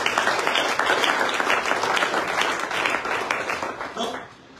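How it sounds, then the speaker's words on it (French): Audience bursts into sustained applause, a dense wash of clapping from many hands that holds steady and tapers off near the end. "Est-ce que tu peux acclamer pour toi?"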